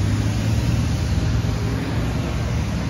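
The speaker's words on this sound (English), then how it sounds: "based on the cars going by, there's a lane that's probably blocked off" Cars pass on a Saratoga Springs street where a lane is barricaded, a steady close engine and tyre rumble with strong low tones that stays loud from start to end.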